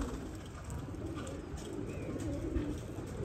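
A pigeon coos softly while pecking at grain, low faint cooing over a quiet background hum.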